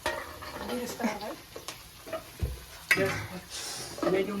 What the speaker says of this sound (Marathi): ते काय बिरिस्ता कांदा फ्राय करताय